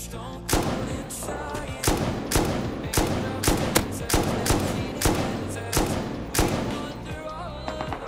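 Gunfire from the survival game Rust (modded) rings out as a steady run of about a dozen loud, sharp shots at even intervals, each with a short ringing tail, with no talking.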